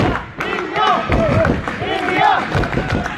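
Indian supporters at an England versus India plate final chant and cheer loudly in rhythmic bursts, many voices shouting together close by in a boisterous crowd.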